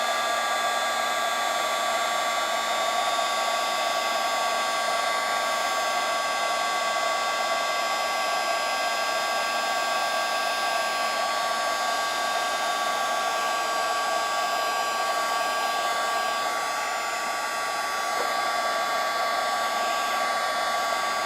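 A heat tool embosses stamped flowers on a watercolor painting, blowing a constant loud, even hum and rush of air for about twenty seconds without pause, with no voices.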